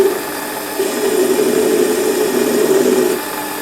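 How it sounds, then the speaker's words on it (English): A Warco metal lathe turns a chamfer on the front edge of a part, a steady close whine with a bright tonal cutting note sustained for about three seconds before easing off. "I'm just going to put a little chamfer, well, a chamfer on this front edge"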